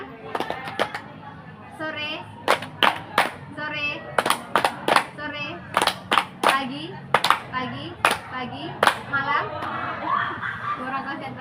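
Children playing an ice-breaking clapping game answer with sharp bursts of clapping in groups of one to three claps, loud and close, between an adult's spoken prompts and kids' chatter and giggles.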